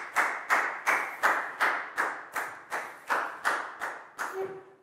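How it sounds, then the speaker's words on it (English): Students in a Year 4 classroom clap for a classmate in about ten slow, even bursts, loud and close, forming a rhythmic round of applause with no talk over it. "High five and a big round of applause for Net"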